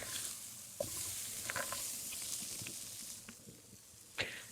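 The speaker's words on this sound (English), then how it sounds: "You hear that sizzle, guys?" Soft, steady sizzling of steak frying in a pan, with occasional brief pops and clinks over the continuous hiss, heard fairly quietly.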